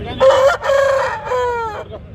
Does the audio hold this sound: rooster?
yes